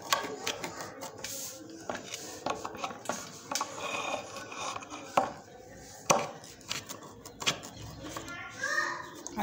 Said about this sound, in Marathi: आपल्या आवडीनुसार लहान मोठ्या आपण फोडी करू शकतो।